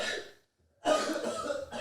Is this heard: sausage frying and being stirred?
no